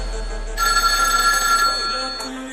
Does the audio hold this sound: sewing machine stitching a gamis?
no